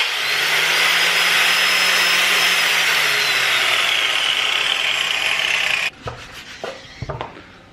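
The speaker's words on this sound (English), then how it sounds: "Let's just make sure the grinder actually works before we throw out the packaging" A new angle grinder, freshly unboxed in a home garage, spins up and runs with a loud, steady high-pitched whine for several seconds before cutting off, followed by a few scattered clunks and handling knocks.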